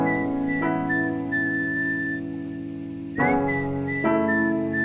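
Someone whistles a clear, sustained melody of long held notes with a couple of pitch jumps, set over a steady recorded backing track.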